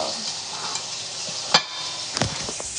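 Eggs fry in a pan with a steady, moderate sizzle, broken by a few sharp clicks and scrapes of a utensil, and no one speaks.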